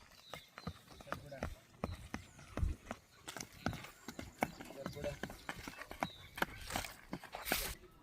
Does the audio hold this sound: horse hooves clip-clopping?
yes